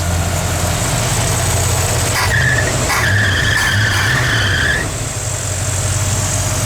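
A slipping engine belt on a junkyard truck with a freshly repaired alternator squeals in rising, wavering tones over a steady engine idle, loud and close with no talk.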